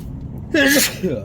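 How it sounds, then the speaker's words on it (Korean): A single sharp sneeze bursts out after a moment of low background rumble, close and loud, followed by a brief murmur, inside a vehicle at a highway rest stop. "재채기가 와"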